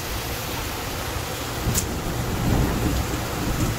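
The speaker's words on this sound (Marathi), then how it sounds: "आणि आता पाऊस मस्त विजा गिजा होते, चमकत आहे मस्त" Steady rain hiss with a low rumble of thunder building in the second half, broad and continuous, no voices.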